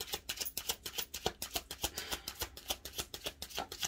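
Tarot cards are shuffled close to the microphone in quick, regular bursts of crisp riffling and slapping, repeating steadily with no talk.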